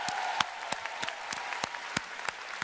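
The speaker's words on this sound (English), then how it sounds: "I really give yourselves a round of applause for joining us here in Anaheim." Audience at PlayStation Experience 2017 in Anaheim applauding steadily, a dense wash of clapping with a few sharper, nearer claps standing out; no talking over it.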